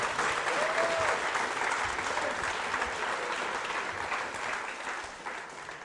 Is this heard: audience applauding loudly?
yes